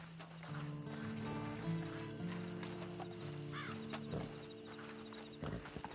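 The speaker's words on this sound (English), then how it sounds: "Then you better get on this horse." Horse hooves clip-clop in the Red Dead Redemption 2 video game, faint intermittent thuds under a tonal musical score, with a few scattered sharper knocks near the end.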